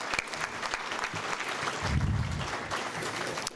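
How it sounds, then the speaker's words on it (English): Crowd applause for inductees at the Curbstone Coaches Banquet, a steady wash of many hands clapping in a hall, moderately loud and continuous with a slight swell midway. "Let's give these inductees one more round of applause."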